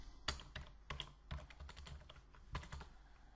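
Computer keyboard typing while entering a search box in CSS code, a close run of quick, uneven keystrokes with a few sharper key hits, heard alone.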